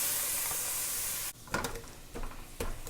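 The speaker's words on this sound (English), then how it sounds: "The garlic's cooking in there." Garlic sizzling in a stir-fry pan with water added, a loud steady hiss that drops abruptly and then crackles and spits unevenly, close by.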